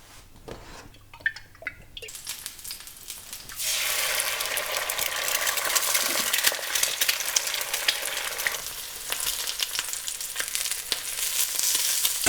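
Sausages and eggs frying for breakfast, a dense crackling sizzle that swells loud after a few quiet seconds of handling, then holds steady and close with fine popping throughout.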